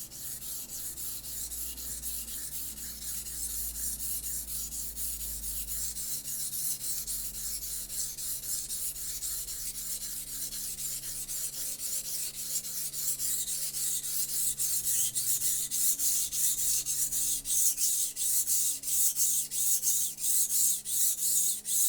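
Steady rhythmic rasping of an old Wusthof knife blade stroked across a sharpening stone, even strokes repeating close and alone, growing slightly more pronounced toward the end.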